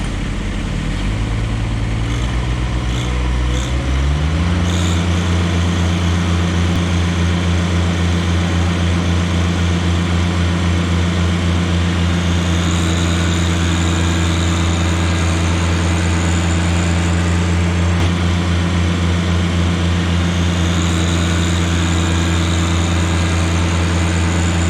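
A Kubota BX or John Deere 1-Series compact tractor engine revs up to full RPM, settling into a loud, steady drone with strong low harmonics that holds for over twenty seconds while pushing in diff lock.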